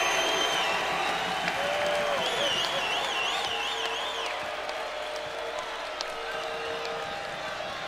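Crowd noise in a South Carolina basketball arena during a Mississippi State game, a steady roar with whoops and shouts, with a commentator talking over it throughout.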